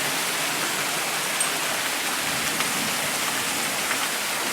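Heavy rain from a sudden rain and hailstorm pours down in a dense, constant hiss, with a few faint ticks from impacts.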